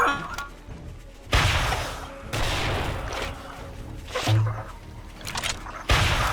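Gunfire in the video game 7 Days to Die: loud, sharp bursts of shots in several separate clusters, with heavy thuds between them, over quieter stretches.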